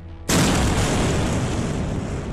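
A huge explosion from a colossal punch erupts suddenly after a brief lull, a loud broadband boom that swells and then roars on with a sustained rumbling wash.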